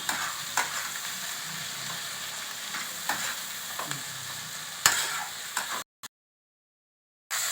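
Spices sautéed in oil for a mushroom curry under continuous stirring, an even sizzle broken by spatula knocks against the pan, then a brief silent gap near the end.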